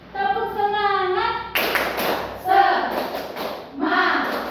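Pupils in a class repeat a clapping chant, sharp rhythmic hand claps and taps mixed with a melodic call and a group's answering shout, loud and close in a room.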